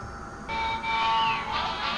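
A train rumble and whistle tone within a played record in the Sam and Max video game, a faint sustained tone rising in intensity over about two seconds, with no talking.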